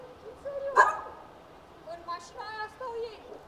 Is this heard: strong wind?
no